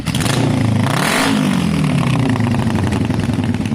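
Kawasaki cafe racer motorcycle with an aftermarket exhaust idling warm and loud, a steady deep rumble with slight pitch wobble and one brief blip, close up with no talking.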